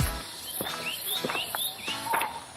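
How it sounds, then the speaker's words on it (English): Birds calling around Sigiriya in Sri Lanka, short bright chirps and whistled notes repeating every half second or so over a quiet outdoor background, fairly close and clear. "The most noise is coming from the birds."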